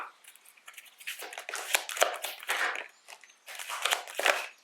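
Oracle cards shuffled and drawn by hand, close crisp rustling and snapping of card stock in uneven bursts with short pauses.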